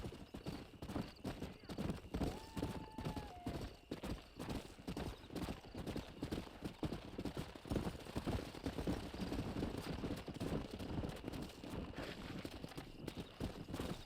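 Rapid, continuous clip-clop of horses galloping in the video game Red Dead Redemption, with a brief whinny early on, the hoofbeats rolling steadily throughout.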